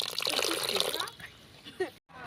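Water pours steadily into parotta dough for about a second, then trickles off, with voices around it.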